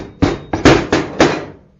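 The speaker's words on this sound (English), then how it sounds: "If you just give the head a tap with a rubber hammer" Four or five dull, solid knocks from a rubber hammer striking the cylinder head of an OHV small engine, evenly spaced and loud up close, each ringing briefly before fading.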